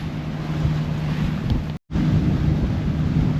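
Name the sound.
strong wind blowing on a boat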